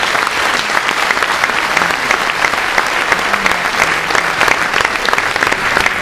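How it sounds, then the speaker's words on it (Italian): Audience applause fills the whole stretch, loud, dense and continuous clapping from a crowd at an Italian event, with no speech over it. "e vorrei un applauso per Enzo Tortora"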